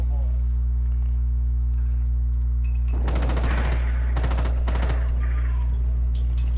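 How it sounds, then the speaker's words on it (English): Rapid bursts of automatic gunfire in the Rainbow Six Siege video game, several short volleys in close succession over a constant electrical hum. "How the fuck am I getting shot at?"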